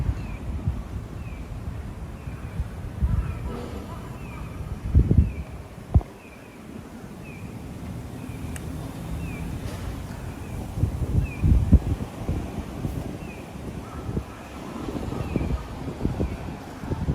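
Wind buffets the microphone in low, uneven gusts outdoors in Toyama, Japan, with a rustling rumble that swells and fades and a few soft knocks.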